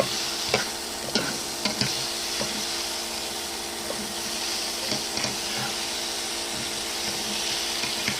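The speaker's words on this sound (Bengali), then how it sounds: "এইভাবে আমি এইটাকে ভাজতে থাকবো যতক্ষণ না এটা হয়ে যাচ্ছে।" Pointed gourd (potol) frying in a pan, a constant dense sizzle with intermittent spatula scrapes and stirring knocks, steady and close, with no talking.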